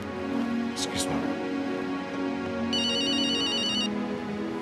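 A phone ringtone chirps in a repeating electronic pattern for about a second in a hospital setting, under ongoing conversation and a steady background hum.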